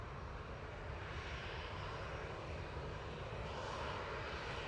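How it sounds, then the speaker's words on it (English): EasyJet passenger jet departing Manchester Airport, a steady broadband engine roar holding at constant loudness throughout, with no talk. "EasyJet 21070 departing to Paris, Charles de Gaulle there"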